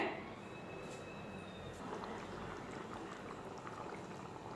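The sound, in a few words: fish curry boiling in pot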